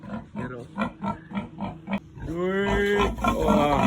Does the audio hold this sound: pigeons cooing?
no